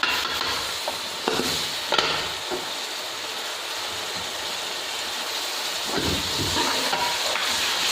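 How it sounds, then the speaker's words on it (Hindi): Ginger garlic paste sizzling among frying onions in a pan for mutton keema biryani, a steady close hiss with occasional stirring scrapes and no talk. "तो यहाँ प्याज फ्राई करते हैं। तो उधर हमारे चावल बॉयल हो चुके हैं। तो यहाँ पे अदरक लहसुन का पेस्ट डालेंगे।"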